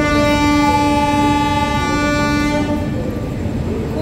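A train at a railway station sounds a loud, sustained horn that holds for nearly three seconds and then cuts off, leaving the rumble of the train and station noise.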